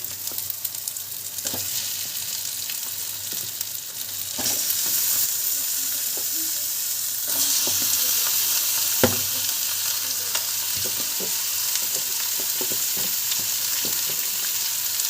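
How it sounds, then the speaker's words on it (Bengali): Mutton frying in spice masala for biryani sizzles loudly and continuously up close, the hiss swelling as the meat goes in, with occasional scrapes and clatters of stirring throughout. "মশলাটা কষা হয়ে গেছে আমরা মাংসগুলো দিয়ে দেবো"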